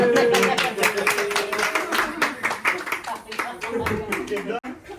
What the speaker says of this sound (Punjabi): ਤੁਸੀਂ ਸੁਣਾਓ ਤਾੜੀਆਂ ਤਾਂ ਵਜਾਇਓ ਸਾਰੇ ਜਾਣੇ